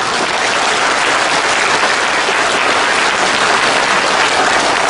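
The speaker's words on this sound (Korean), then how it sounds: "힘찬 박수 부탁드립니다." A large crowd at a launch rally for a national nuclear security front breaks into vigorous applause, a dense, loud, unbroken wash of clapping that holds evenly for the whole stretch with no talk over it.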